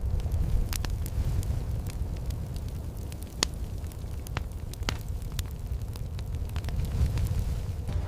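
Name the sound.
fire burning, sound effect in a narrated story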